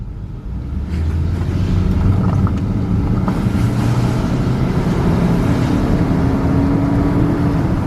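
A Saab 9-5 with a 2-liter turbo engine runs steadily, a loud continuous engine drone with faint turbo whine, close and alone without talk.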